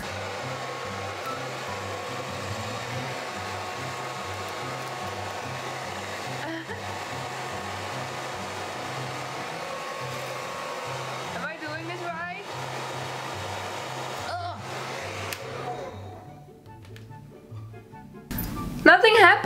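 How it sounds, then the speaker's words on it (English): A hair dryer blows steadily and close up while hair is being styled into a butterfly cut, a continuous airy whoosh under occasional talk that cuts out near the end with some handling noise. "you want to like do it like this while blow drying it."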